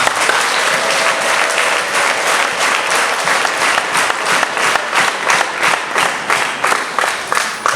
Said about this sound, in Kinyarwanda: Mukomere Imana amashyi rwose